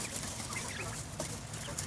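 Quail chatter quietly in quick squeaky chirps and soft clucks, several birds calling close together.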